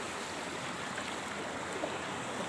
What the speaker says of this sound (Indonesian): ombaknya lumayan deras